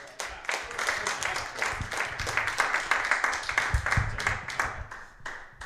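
Steady applause from an indoor audience at the close of an evening technology talk, dense clapping sustained for several seconds at moderate distance.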